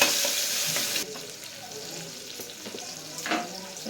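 Tomatoes drop into onions frying in a pan for mutton biryani, a sharp burst of sizzling at first that settles into a softer hiss, with stirring and scraping sounds close by.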